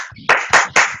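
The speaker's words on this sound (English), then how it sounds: "Let's clap for Brother Fred." A youth church service audience claps in three short, loud bursts of applause in quick succession, with no talk over them.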